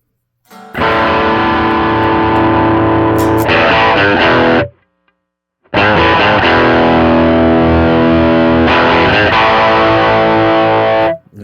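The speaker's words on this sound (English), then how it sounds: "that's the overdrive about halfway" Electric guitar through a Line 6 POD Express with its overdrive set about halfway, playing two loud sustained distorted phrases with a brief silence between them, no voices.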